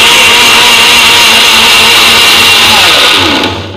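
A kitchen mixer grinder whirring loudly and steadily as it grinds a mixture with water for homemade hair oil, a close continuous motor roar that winds down at the end.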